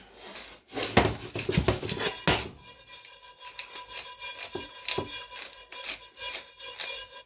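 Frozen butter is grated on a metal grater in a home kitchen, producing loud, close, rhythmic rasping strokes that settle into lighter, quicker scrapes with occasional clinks, with no talking.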